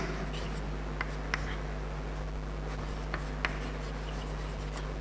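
Chalk scratching on a classroom board during a physics lecture, steady faint scraping with a few sharper taps as strokes begin, under a constant low electrical hum.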